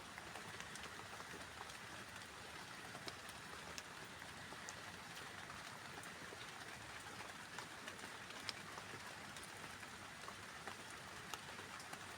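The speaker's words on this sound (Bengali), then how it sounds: "বৃষ্টি বৃষ্টি নামছে" Steady rain falls at night over a home garden of dragon fruit plants, a soft, even hiss with scattered drop ticks that continues unbroken throughout, with no voices.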